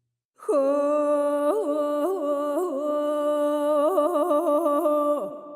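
A sampled sung vocal phrase, "ho hua hua," played with the mod wheel down, with smooth, melismatic pitch wavers, clear and close, held for several seconds before sliding down at the end.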